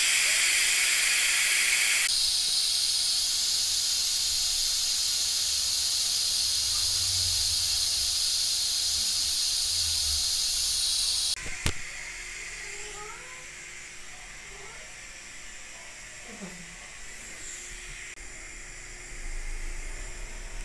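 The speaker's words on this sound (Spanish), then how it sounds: "para que el vapor salga más rápido, así. Con mucho cuidado y ahí usted deje nomás hasta que se salga todo el vapor." Steam hisses loudly and steadily from a pressure cooker valve being released by hand, a harsh broad rush that stops abruptly partway through, leaving a quieter, softer hiss with small clicks and kitchen noises.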